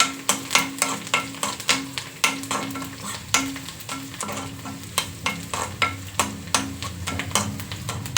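Oggarane tempering for a roti palya fries in a pan with a steady sizzle, while a spoon scrapes and stirs in quick, regular strokes, each one a sharp, close scrape, with no talking.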